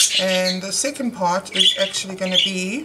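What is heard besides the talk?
pet birds squawking loudly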